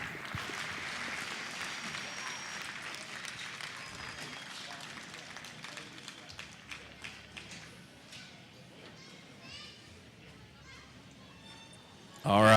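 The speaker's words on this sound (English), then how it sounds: "Give them another round of applause" Crowd applause rings out around the show ring at a junior market barrow show, a steady, moderately loud patter of many hands that lasts throughout and fades slightly toward the end, with a louder burst at the very close.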